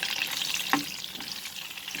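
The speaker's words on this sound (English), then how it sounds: "Fry it over medium high flame." Pointed gourd frying in oil over a medium-high flame, a steady close sizzle with one brief stirring clink partway through.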